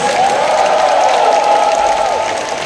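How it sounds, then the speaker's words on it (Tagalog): Loud, continuous clapping from a worshipping congregation at a Bulacan general assembly, with crowd cheering and a held tone above it, tapering slightly toward the end. "Palakpak para sa Diyos."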